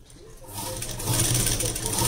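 Sewing machine stitching a lined blouse: the motor starts up and settles into a steady, close whirring hum that grows louder and continues to the end.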